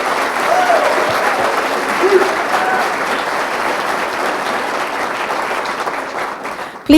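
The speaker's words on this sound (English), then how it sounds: "Please give him a round of applause." An audience at a McConnell Center event bursts into sustained applause, a dense even wash of clapping with some voices underneath.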